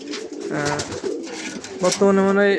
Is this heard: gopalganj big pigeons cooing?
yes